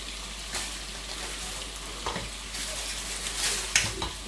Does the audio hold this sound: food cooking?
yes